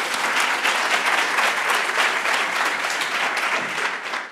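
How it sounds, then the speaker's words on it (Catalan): Loud, sustained applause from a studio audience at a school quiz competition, steady and dense clapping filling the whole stretch before tapering slightly at the end. "Un fort aplaudiment."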